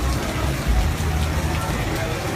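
Steady rain falls on a night in Austin, a dense even hiss with low rumble running throughout, and a voice talks faintly beneath it.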